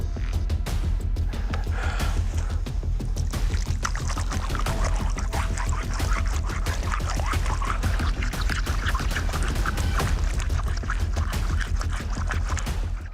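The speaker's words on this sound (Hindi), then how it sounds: "पानी से शिला पर लिखे अक्षर स्पष्ट हो रहे थे।" Water poured over a stone slab in a forest, giving a continuous splashing, trickling pour at close range that runs steadily for the whole stretch without speech.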